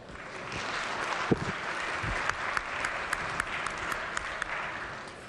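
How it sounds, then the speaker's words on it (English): Applause in the West Virginia Legislature chamber for guests being welcomed, a steady broad patter of many hands lasting several seconds at moderate level, with a few sharper claps standing out. "please give them a round of applause"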